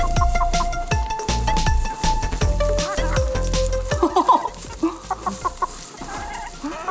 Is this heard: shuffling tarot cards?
no